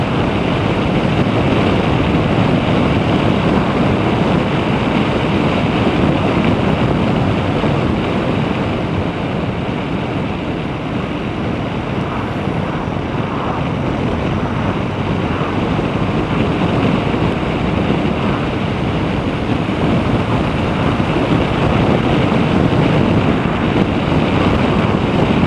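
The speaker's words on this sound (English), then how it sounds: "So, 60-mile-an-hour wind blast." Wind blasting past a rider on a motorcycle at about 60 mph on a cold day, a loud continuous roaring rush with low rumble throughout, steady and unbroken.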